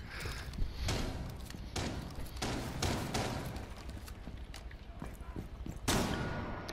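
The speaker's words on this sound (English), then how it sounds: "Who's throwing flashbangs in here?" Loud bursts and thuds of flashbang grenades going off in the video game Rainbow Six Siege, several sharp blasts over about seven seconds with continuous game noise between them, the strongest near the start and end.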